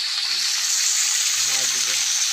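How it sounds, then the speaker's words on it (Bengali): Potato and okra fry in mustard oil, a steady broadband sizzle that fills the clip, close and loud, with faint stirring clatter toward the end. "এই আলু আর ভেন্ডিটা দিয়ে দেবো।"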